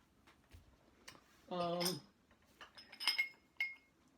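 A small glass shot glass clinks as it is handled up close. A few light taps and two bright, ringing pings stand out, quiet and intermittent, with a brief vocal sound partway through.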